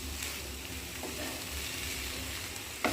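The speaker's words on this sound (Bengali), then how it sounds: "এবার নেড়ে চেড়ে সেটাকে মিশিয়ে নিচ্ছি" Rice pilaf is stirred and mixed in a pan, giving a steady sizzling fry with soft scraping stir sounds throughout and a brief clink at the end.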